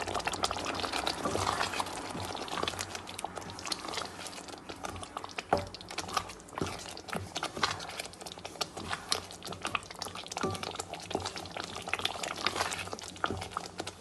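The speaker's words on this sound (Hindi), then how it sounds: "और इसको मज़ीद 5-7 मिनट के लिए भून लूँगी।" Beef karahi masala being fried in ghee crackles and spits with a dense, continuous sizzle, full of rapid sharp pops throughout, loud and close.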